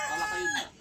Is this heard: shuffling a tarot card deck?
no